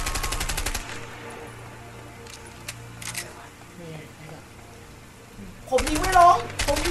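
Rapid bursts of automatic gunfire in the video game A Way Out open and close the stretch, with quieter game sounds and scattered clicks in between.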